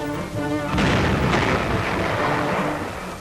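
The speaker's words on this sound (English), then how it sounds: "The gun commander demonstrates manual firing." An M10 tank destroyer's main gun fires a single heavy, booming shot close by, the blast rolling out into a long fading rumble, with a low engine drone audible before it.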